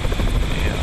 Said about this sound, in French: j'entends un hélico là qui arrive vers nous